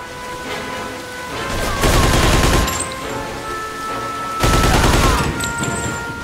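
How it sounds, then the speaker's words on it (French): Two bursts of rapid gunfire in the Mafia 2 game, each lasting about a second, loud and sharp, with quieter ambient noise between them. "Ah, mais tire pas en l'air."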